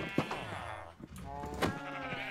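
Minecraft sheep crowded into a villager breeding farm let out a run of overlapping bleats, wobbling drawn-out calls interrupted by a couple of soft clicks, heard up close and at modest volume.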